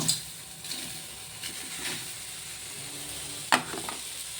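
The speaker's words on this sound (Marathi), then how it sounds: "आता हे सगळं मिक्स करून मी कढईमध्ये उकळायला ठेवणार आहे" An amla and jaggery mixture in a wok gives a quiet, low hiss under a few sharp clicks and scrapes of stirring, one of them louder near the end, with no voices.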